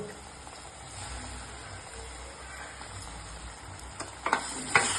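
Half a kilo of washed chicken sautés in a pan for a spicy chicken curry, giving a soft, steady sizzle. A few sharp utensil scrapes and clinks come near the end.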